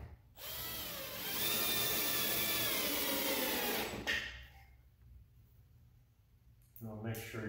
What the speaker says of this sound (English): And then you can go ahead and screw your screws in.